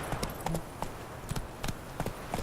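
Roach the horse's hooves clip-clopping in The Witcher 3, a run of crisp, fairly close steps in an uneven trotting rhythm over a constant ambient hiss.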